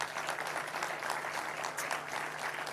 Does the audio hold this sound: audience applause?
yes